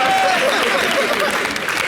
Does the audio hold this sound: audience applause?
yes